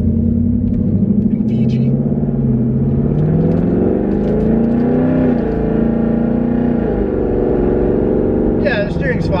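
A 2019 twin-turbo Ford Mustang GT drives off toward the highway, its engine rumbling steadily from inside the cabin with gentle rises and falls in pitch as it accelerates, with a voice talking over it.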